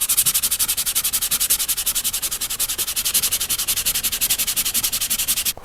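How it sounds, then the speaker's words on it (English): Sixty-grit sandpaper is rubbed back and forth by hand in fast, even strokes, producing a close, steady rhythmic scratching with no talking. "Let me get the sandpaper. I'm going to start with something fairly aggressive."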